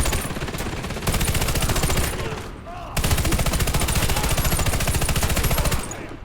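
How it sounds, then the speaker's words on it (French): Rapid machine gun fire rattles in long, loud continuous bursts during a Warface match, pausing briefly before resuming, with faint voice callouts underneath. "Mitrailleuse en service!"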